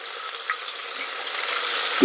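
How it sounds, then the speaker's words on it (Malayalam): Food frying in a pan for a Kerala-style home meal, giving a steady, close hiss that stays even throughout, with a brief louder crackle near the end. "നമുക്കിത് ഫ്രൈ ചെയ്യുന്നത് കാണിച്ചു തരാം കേട്ടോ"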